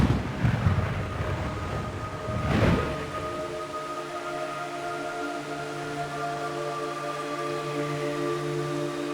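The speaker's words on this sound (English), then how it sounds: "It's raining blood." Steady rainfall in the Metal Gear Solid 3 video game, a soft, even hiss of falling rain with a faint low tonal hum underneath and a brief louder gust near the start.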